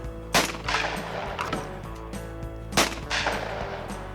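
Two loud, sharp shotgun blasts about two and a half seconds apart ring out on an outdoor sporting clays range at Delmarva Sporting Clays in Mardella Springs, each followed by a brief echoing tail over steady background noise.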